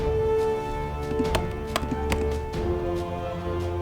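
Villagers chopping wood in the Kingdoms and Castles game: a few sharp, spaced axe knocks ring out over a steady bed of game music and ambience.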